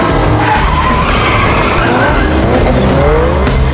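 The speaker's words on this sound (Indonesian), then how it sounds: "kemudian memotong jalur kereta menggunakan drift yang berbahaya" A car drifts dangerously across a railway crossing in a film chase, its tires screeching loudly and continuously over a roaring engine, with no voices.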